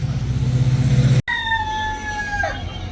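A rooster crows close by on a roadside during a Shirdi pilgrimage walk: one clear, loud call rising and then dropping away at the end, just after a short rumble of engine noise cuts off.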